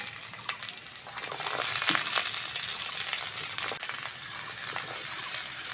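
Onion, garlic, beans, cabbage, carrot and capsicum sizzle and crackle in a hot pan, a steady frying hiss broken by scraping and stirring clicks.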